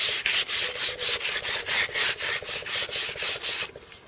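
Steady back-and-forth rasping of sandpaper on the edges of a wooden garden fence panel, close and fairly loud, with about a dozen even strokes before stopping.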